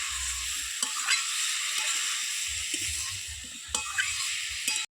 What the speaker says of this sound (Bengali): এবার সবগুলো উপকরণকে খুব ভালো করে ভেজে নেব।